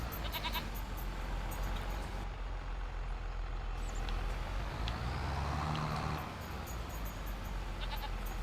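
Goats bleating in the farm video game Farming Simulator 25, several overlapping calls over a steady engine-like hum from a farm vehicle, with no talk.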